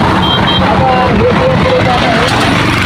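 An auto rickshaw rolls up on a trip to Raigad fort, its engine and road noise a loud, continuous rumble close by.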